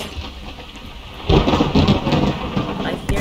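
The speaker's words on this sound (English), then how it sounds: "Thunder." Thunder and rain in the Roblox video game: a steady hiss of rainfall, then a loud rolling thunderclap bursts in about halfway and rumbles on under continuing rain.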